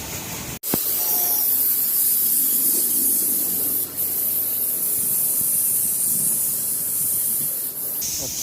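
A steady, loud hissing spray of diesel blasts over a vehicle being cleaned, continuous and close with only brief dips, with no talking.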